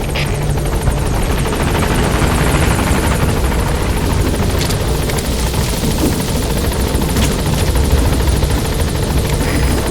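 An enemy helicopter in the Metal Gear Solid V video game, a loud, steady rotor thump and engine roar that runs without a break and drowns out everything else.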